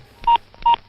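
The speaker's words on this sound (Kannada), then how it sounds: "ಫೋನ್ ಮಾಡಿ." Telephone keypad tones as a number is dialed: two short, clean electronic beeps in quick succession, close and clear.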